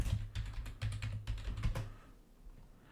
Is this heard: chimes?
no